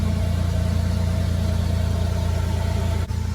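A Toyota Tacoma or 4Runner with a freshly replaced exhaust drives along, its engine giving a steady, close mid-range hum with a brief dip near the end and no talking over it.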